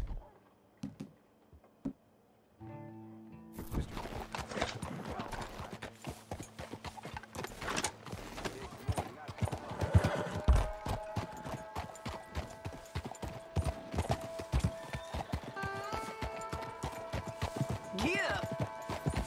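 Rhythmic hoofbeats of a galloping horse in Red Dead Redemption 2, beginning after a few quiet seconds with a spoken call and continuing steadily, with clattering tack, occasional whinnies and talk over the ride.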